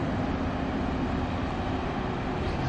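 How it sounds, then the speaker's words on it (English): A bus passing by on a street in a small town, heard as a steady loud engine rumble and road roar that stays constant across the moment. "There's a bus coming by here too."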